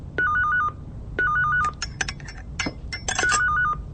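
A telephone rings in repeated two-tone electronic trills, three bursts spaced about a second apart and sounding close, with clatter and knocks in between and no talk over them.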